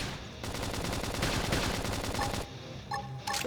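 Rapid gunfire from a battle in Xenoblade Chronicles X: Definitive Edition, a dense stream of loud shots layered over game combat noise for about two and a half seconds before it drops away.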